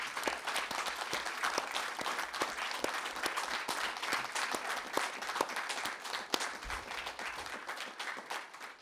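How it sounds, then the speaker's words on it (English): Workshop participants at an internet governance conference give a round of applause to thank the class, with steady, moderately distant clapping sustained for several seconds and individual claps standing out. "I just want to conclude maybe with a round of applause to thank you for all your hard work."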